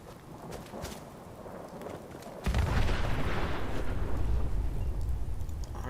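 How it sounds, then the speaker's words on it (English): A chem lab explosion in the video game Fallout 4 erupts suddenly as a deep, booming roar that swells and rumbles on for several seconds, loud and sustained after a quieter stretch of game ambience. "There's a big-ass explosion."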